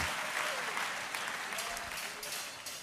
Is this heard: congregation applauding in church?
yes